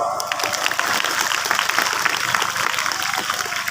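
Dense, steady applause from an audience at a gathering at Ponpes Adlaniyah, the Islamic boarding school in Pasaman Barat, filling the whole stretch at an even level with no break.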